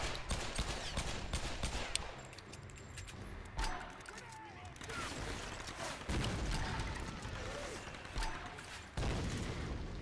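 Gunfire from Tomb Raider: Definitive Edition: several sharp shots and bursts break out across the stretch, loud and close, set against game ambience with a voice speaking over parts of it.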